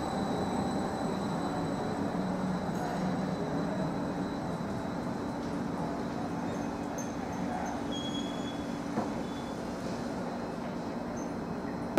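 A Greater Anglia Class 745 electric train runs into a station platform on the 18:43 service to London Liverpool Street, giving a steady, fairly loud rolling rumble with some high whine, close by and sustained throughout.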